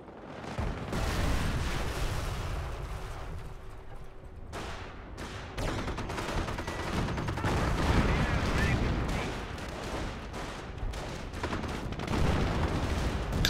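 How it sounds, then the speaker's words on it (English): Calliope rocket artillery fires in Company of Heroes, dense bursts of blasts and crackling impacts rolling on continuously over battlefield noise, with a voice talking underneath. "Calliope firing off at those infantry, forcing them to retreat."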